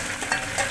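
Chopped and ground onion frying in a pan for egg curry, a steady close sizzle with soft scraping strokes of stirring, with no voices.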